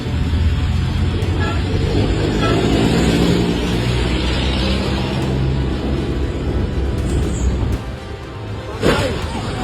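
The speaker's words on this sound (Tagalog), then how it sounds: "isang jeep na kahit naka-brake light na ang nasa harap ay maririnig na humaharurot sa halip na magpreno" Jeepney engine roaring and revving on a Philippine road instead of braking behind a stopped vehicle, loud and close, with a steady low rumble, traffic whoosh and a sharp burst near the end.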